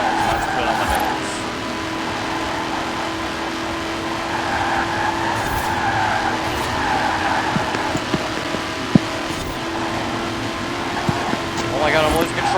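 A Subaru car in a racing video game skids out of control, with a continuous loud engine drone and tire noise and occasional sharp knocks near the end.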